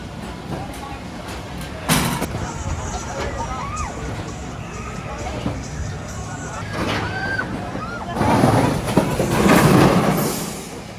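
The Demon Drop ride at Dorney Park runs with a mechanical rumble and clattering, bursts of wind-like roar near the start and the end, and people talking and shouting over it.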